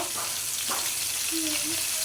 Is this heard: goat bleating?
no